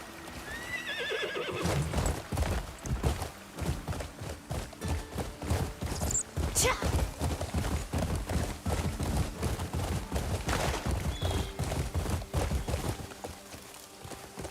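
A horse whinnies then gallops in the video game Crimson Desert, rapid clip-clopping hooves pounding steadily and close for several seconds with no talk.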